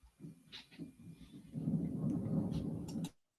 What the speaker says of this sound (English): I don't know if you heard the thundering, but yeah, by me.